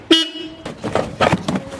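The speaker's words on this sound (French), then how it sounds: "C'est là le klaxon? Ouais." A quick car horn toot from a modified meme car, heard right at the start and followed by indistinct voices nearby.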